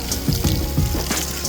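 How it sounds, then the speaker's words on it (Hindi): Cold spring water flows from a mountain spring in summer, a close, continuous splashing gush with irregular surges and no voices. "इतनी गर्मियों में भी झरने का पानी चल रहा है यहाँ पे।"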